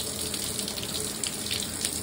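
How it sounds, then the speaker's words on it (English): Water sprays steadily from a shower head at 35 PSI on its first setting, a close, even hiss with no talk over it. "you want to check the flow of the water"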